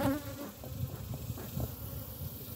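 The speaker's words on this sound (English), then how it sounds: "Probably the ones that are still in there are the young bees that aren't flying yet." Honey bees buzz inside a hive box that a beekeeper is smoking out, a close, steady, fluctuating drone with no voices.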